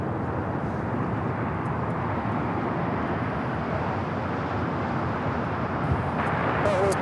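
Airliner engines roar steadily at Los Angeles International Airport (LAX), a broad continuous rumble that holds even and loud throughout, like a jet rolling or idling nearby.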